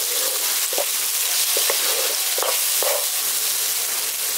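Mustard-poppy paste fries loudly in a pan with a dense, steady sizzle, while a spoon scrapes and taps through it in a few short, clustered strokes.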